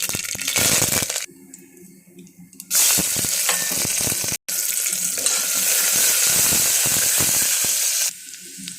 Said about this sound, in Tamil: எண்ணெய் சூடானதும் கடுகு போட்டு தாளிச்சிக்கலாம்